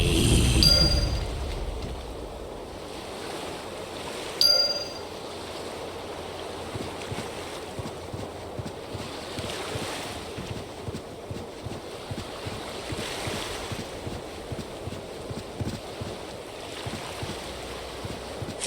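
Rolling ocean surf and wind from an EverQuest II game setting in the Fens of Nathsar, steady and moderately loud, with a soft repeated rhythmic lapping and a couple of brief bright chimes near the start.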